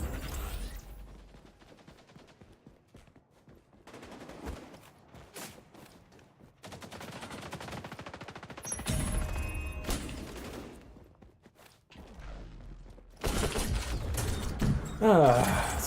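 Video game gunfire comes in quiet bursts of rapid shots separated by short silences, with louder clusters of fire near the end, set against faint background game sounds.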